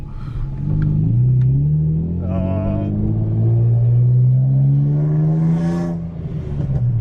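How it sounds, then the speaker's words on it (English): A BMW E36 drift car engine revs with a harsh, raspy, very low exhaust drone that rises and falls steadily, loud and close, with no talking. "Oh, the rasp. I don't miss that noise at all"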